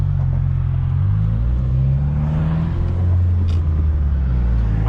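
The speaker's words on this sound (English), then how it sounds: "As you can see, it's extremely loud, and that external wastegate is gonna be really loud as well." Stage 2 2014 Subaru WRX STI sedan with an external wastegate idling nearby, a loud, deep, steady rumbling drone throughout with a faint rise in revs, and no talking.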